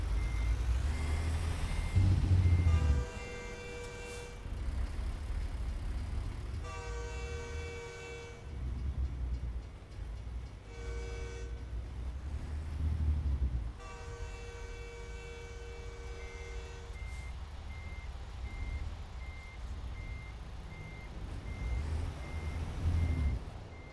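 Truck reversing alarm in American Truck Simulator on the Oklahoma map, a steady train of evenly spaced beeps repeating in bursts over a low engine rumble, loud and close, with no talking.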